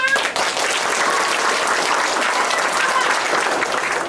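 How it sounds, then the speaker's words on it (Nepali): Sustained, dense clapping from an audience watching a Nepali street drama about cleanliness awareness, staying loud and even for several seconds with no talking over it. "म्याम ताली बजाऊ"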